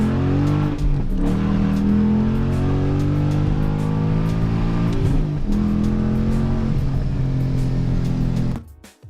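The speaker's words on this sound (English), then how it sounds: "You can also hear the burbles when you downshift." A Nissan Frontier with a full exhaust burbles and rumbles loudly, with a deep steady drone and pitch sweeps as it downshifts, close and continuous before cutting off at the end.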